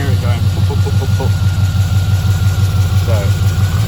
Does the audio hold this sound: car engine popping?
yes